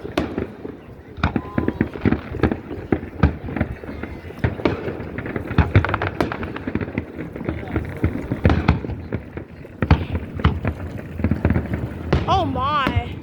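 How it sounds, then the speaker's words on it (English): Fireworks show in Antioch, California, with big shells bursting in rapid, irregular booms and crackles, some loud and close, mixed with cheering and people talking, and a whistling rocket near the end. "These fireworks are big, man."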